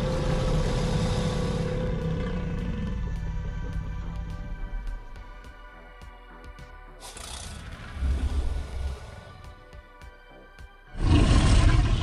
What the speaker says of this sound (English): Let's hear the roars.